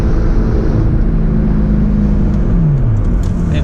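Carbureted older car engine with no emissions equipment, a loud steady low rumble with a rising and falling rev partway through, heard close up and alone.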